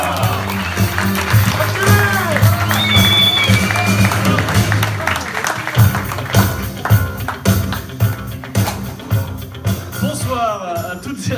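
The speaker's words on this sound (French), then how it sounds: "Je vous demande d'applaudir très fort Adrien" An indoor audience at a Bayonne evening event applauds for Adrien, a dense crowd clapping that swells and slowly thins, mixed with cheers, whistles and people talking, while music plays under it at first.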